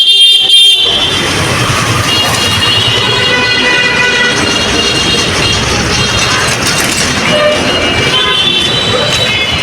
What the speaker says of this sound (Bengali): একেবারে ব্যস্ত রাস্তা।